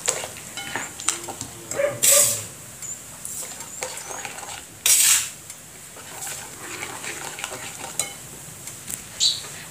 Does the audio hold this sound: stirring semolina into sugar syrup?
yes